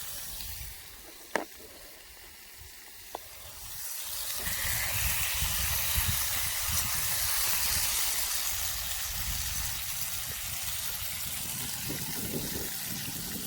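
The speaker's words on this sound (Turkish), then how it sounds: "Yumurtalar kaynıyor." Steady hissing, bubbling water with eggs boiling over a wood fire, rising louder after a few seconds and continuing as a constant rolling boil, with a couple of faint clicks early on.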